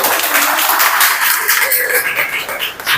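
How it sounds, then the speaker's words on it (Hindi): Audience claps together at a public event in India, a short burst of dense clapping at close range, with faint voices mixed underneath. "एक ताली बजाएं इनके।"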